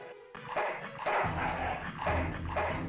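A dog in the video game Full Throttle barks several times in a close, evenly spaced series of yaps with no talk over it.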